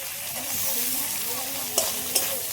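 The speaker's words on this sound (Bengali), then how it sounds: "সিদ্ধ করে রাখা আলুর খোসাগুলো এর সাথে দিয়ে হালকা করে নেড়ে চেড়ে নেব।" Boiled potato peels with turmeric and salt are stirred in a frying pan, a close crackling sizzle with scraping strokes and two sharp taps of the spatula near the end.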